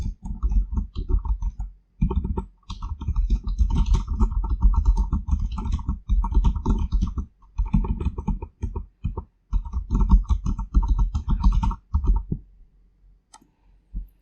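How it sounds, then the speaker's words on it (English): Someone types steadily on a computer keyboard, producing close, continuous key clatter in bursts separated by short pauses over about fourteen seconds. "Now type your modification which you want and hit enter button."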